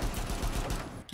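Rapid automatic gunfire in the shooter game Rainbow Six Siege, a dense burst of close shots over about a second that cuts off near the end.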